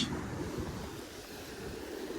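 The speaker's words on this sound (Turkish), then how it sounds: "hava rüzgarlı bugün nasıl ses çıkar bilmiyorum" Steady wind blows across a shoreline where people fish from the shore, a constant broadband rush with low rumbling buffeting on the microphone and no voices.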